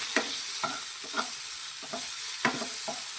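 Spices with kasuri methi fry in a pan for masala bhindi, a steady bright sizzle underneath several short scraping stirs, close and fairly loud throughout with no voices.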